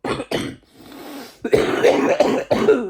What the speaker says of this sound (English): I always wake up having an epic coughing fit